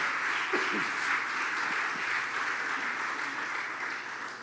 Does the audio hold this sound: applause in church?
yes